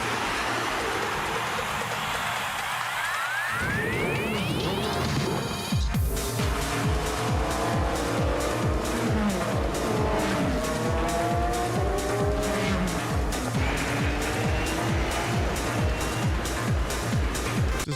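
Race cars in a Gran Turismo video game trailer: a muffled engine drone gives way to loud, close high-revving engines climbing and shifting in rapid pulses, with tire squeal, continuous and without talk.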